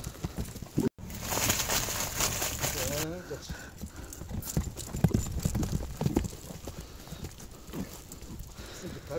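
A horse walks on hard ground, its hooves clip-clopping in a steady uneven rhythm close by, while people talk over it throughout.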